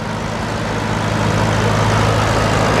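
An old International tractor engine powers a log sawmill cutting white oak at a steam and gas show, its steady loud rumble droning continuously and close.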